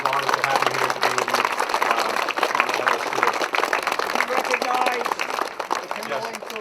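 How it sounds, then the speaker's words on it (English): A crowd applauds veterans at a school event with a Black Hawk helicopter, a steady dense wash of clapping that holds for several seconds with voices mixed underneath. "if we could just have one more round of applause for our veterans today"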